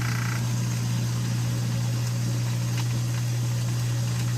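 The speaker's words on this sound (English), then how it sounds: "I also will go ahead and turn the disposal on." A newly installed kitchen sink garbage disposal runs with a loud, constant low motor hum that holds steady for the whole stretch, with no talking over it.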